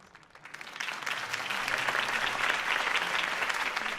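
A crowd in the Batman Telltale game bursts into applause after Harvey Dent's campaign speech, fading in quickly and then holding as dense, sustained clapping from many people.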